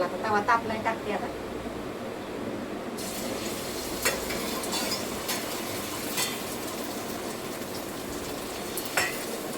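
Food sizzling on a hot tawa griddle in a home kitchen: a steady crackling hiss that starts abruptly partway through and continues evenly, with a few utensil clicks and brief talk.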